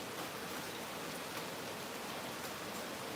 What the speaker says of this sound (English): this rain though.